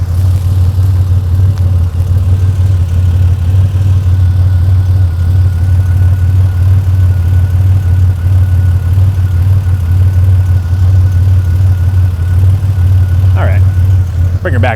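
Turbocharged Chevy S10 engine swapped from a junkyard, idling steadily at about 700 rpm with a deep, even low rumble throughout, close and loud, with a brief higher rattle near the end.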